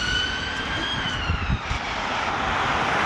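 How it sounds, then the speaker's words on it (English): An ambulance siren sweeps past on a snowy winter walk, with its wailing tones drifting and bending in pitch as it goes by. The siren is moderately distant and sits over a low rumbling background. "Now that was an ambulance."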